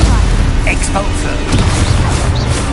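Expulso explosion spell cast in the Hogwarts Legacy video game, producing loud, dense booms and crackling bursts over a busy combat background for a few seconds.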